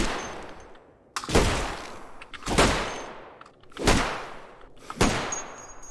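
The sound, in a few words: gunfire in video game Cataclysm Dark Days Ahead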